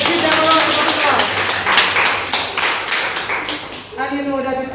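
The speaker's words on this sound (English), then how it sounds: "Let's give them a round of applause." Audience clapping at a Rotary Club visit to a health center, a run of sharp, fairly close hand claps in loose rhythm, then a voice starts talking at the end.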